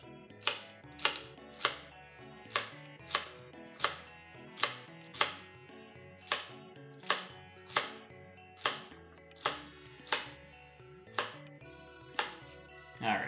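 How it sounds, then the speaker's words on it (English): Knife dicing celery stalks on a cutting board for a chef's salad, about twenty sharp, evenly spaced chops in a steady rhythm, close and clear with no talking. "Alright, so we got some nice diced celery in here."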